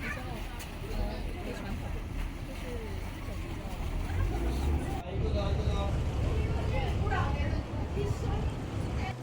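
Engine rumble and water noise from a ride on a turtle-shaped boat in Japan, with people talking over the steady drone throughout.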